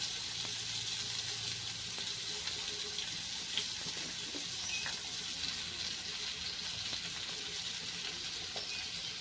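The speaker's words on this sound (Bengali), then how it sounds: "টমেটোগুলোকে একটু নেড়ে চেড়ে ভেজে নিতে হবে।" Tomatoes frying in a pan with salt and dried red chillies, stirred now and then, giving a steady soft sizzle throughout with faint scraping touches and no talk.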